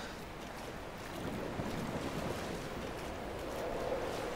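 Water waves washing in the video game Dear Esther, a steady broadband wash of surf with wind, continuous and moderately loud, with no voices.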